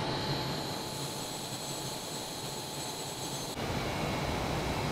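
Fighter jet engine in Microsoft Flight Simulator, a steady loud roar with a high whine that drops abruptly near the end, then continues as a constant drone.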